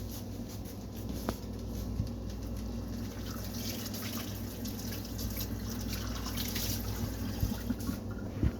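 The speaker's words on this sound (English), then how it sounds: "Now you're gonna rinse your cup out good." A cup is rinsed out under running water, a soft, steady wash of flowing and splashing water with a few light knocks.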